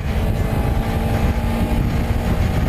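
A 2013 Kawasaki Ninja 300 motorcycle engine hums smoothly and steadily during a test ride, a constant low drone loud and close, mixed with wind rush and no speech.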